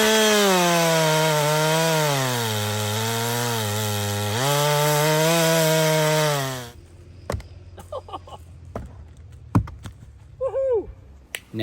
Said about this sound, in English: And Lee grabbed his chainsaws out and showed us how to use them properly and taught us how to use our very own.